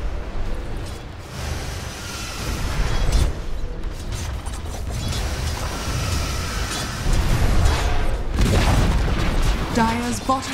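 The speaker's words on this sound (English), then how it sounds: "Dire's bottom tower has fallen." Tower destruction in the Dota 2 game: loud, crunching mechanical booms and crumbling over a busy mix of game sound, with a heavier burst near the end and an in-game announcer voice speaking.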